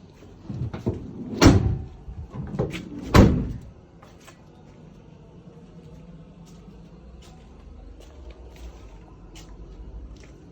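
Sliding and hinged doors on a van being opened and shut: two loud thumping door bangs in the first few seconds with smaller knocks around them, then a quieter settling of faint rattles and background.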